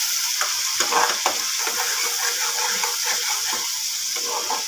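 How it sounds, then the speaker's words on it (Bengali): Onion, ginger, garlic and green chilli paste with salt, sugar and turmeric being stir-fried in a pan for a banana flower prawn bharta, a steady close sizzle broken by repeated scraping stirs, with no talk. "দিয়ে মশলাটাকে কষাচ্ছি।"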